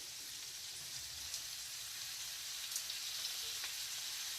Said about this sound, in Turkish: Arkadaşlar Yahnemize domatesleri ekliyoruz.